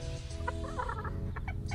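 A rooster in a farmyard gives a few short, close clucks over a steady low background hum.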